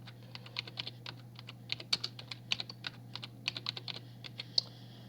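Slow, irregular clicking of keys on a computer keyboard, close and fairly quiet, with uneven pauses between keystrokes over a faint steady hum.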